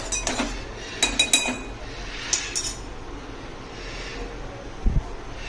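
A spoon stirs crushed garlic chunks into melted butter in a pan, giving several bright metallic clinks and taps early on, then a quiet stretch with a soft knock near the end.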